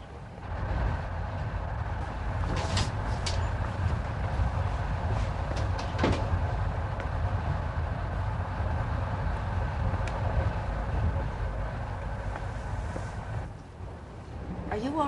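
A train running on rails aboard the Orient Express, a steady rumbling roll with faint rattles and a few clanks, constant throughout, with brief low voices.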